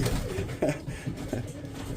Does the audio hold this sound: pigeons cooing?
yes